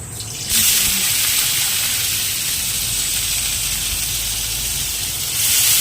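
Onions go into hot oil in a kadai with a sudden loud hiss that settles into a steady, broad sizzle and lasts several seconds. Nobody speaks over it.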